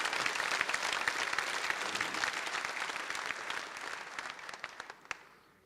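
An audience at a political speech breaks into dense, sustained applause that slowly thins into fewer, scattered claps before fading out.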